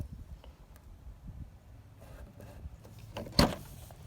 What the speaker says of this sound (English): Yep, the door opens.